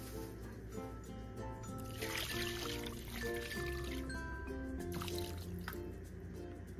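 Water is poured into a pressure cooker holding beef and tendon, making a splashing, trickling fill with drips, close and moderately quiet, with no talk.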